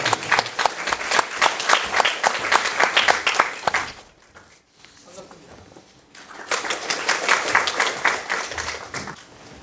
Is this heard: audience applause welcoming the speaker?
yes